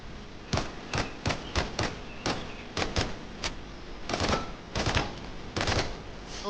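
Weapon gunfire in an indie-developed video game switches between full-auto, semi-auto and three-round burst modes. Loud, close, sharp shots come singly at first, then in quick clustered bursts, with no voice over them.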